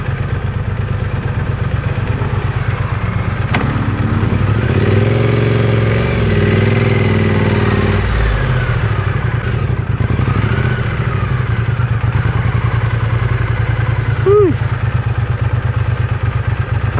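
A Triumph Speed Twin 900 motorcycle engine idles with a steady, close chugging rumble, briefly swelling as if blipped, with light mechanical clatter; the engine is hot.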